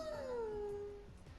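Howl emote from the Fortnite video game: a single drawn-out wolf-like howl that starts high and slides down to a steady held tone, loud and close, with no talking over it.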